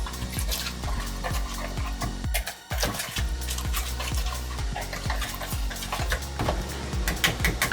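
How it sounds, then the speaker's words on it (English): A spoon mixes a thick mushroom and cheddar cheese casserole mixture in a bowl, with continuous rhythmic scraping and squelching strokes, close and fairly loud, and a short pause partway through. "now we're gonna mix that all together"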